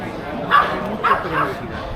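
A fluffy dog near a Tintin mural on a Belgian street gives a few short yips and barks, heard over continuous street noise and voices.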